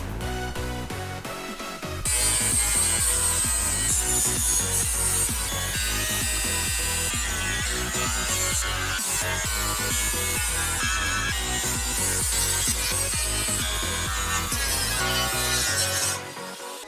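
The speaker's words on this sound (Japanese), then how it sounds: "サンダーかけ終わりました。" A sander grinds continuously over heavily welded steel panels during a Toyota AE86 trunk restoration, a harsh, loud, close abrasive whine with rough rhythmic scraping after a brief quieter start.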